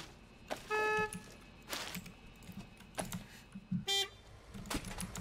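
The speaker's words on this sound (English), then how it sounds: "Stop honking." A fuel supply truck's horn honks twice in a video game gas station, each a short, loud, tonal blast rising above keyboard typing and clicks.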